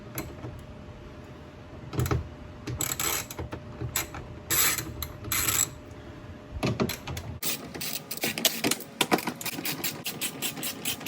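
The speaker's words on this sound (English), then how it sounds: "I'm gonna start loosening these with 10 mil." Ratchet loosening 10 mm bolts on a Dodge Caravan door panel: bursts of close, rapid clicking, denser and more continuous in the second half, over faint background hum.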